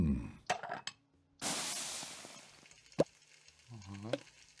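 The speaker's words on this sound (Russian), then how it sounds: "колбаска жарится или котлетка." A sausage or patty frying in the Kitchen Fever cooking game gives a bright burst of sizzling, set among short plops and clicks of game effects, with a voice briefly speaking near the end.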